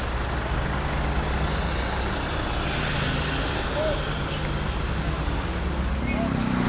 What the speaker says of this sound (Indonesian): Oke, ini dia truk terakhir yang keluar dari kapal ALS